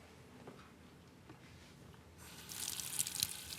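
Water from a kitchen tap starts running into a stock pot at the sink, a faint hiss that swells into a brighter, louder rush after a quiet start of small handling noises.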